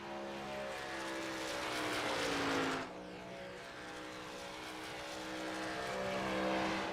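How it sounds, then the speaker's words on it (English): Toyota Tundra race truck accelerating around a superspeedway, a loud sustained engine drone whose pitch climbs, dips sharply near the three-second mark, then rises steadily again as other trucks share the track. "Tries to get his Toyota Tundra up to speed."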